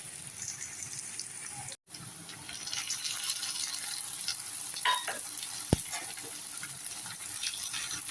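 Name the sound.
onions with ginger garlic paste frying in a pan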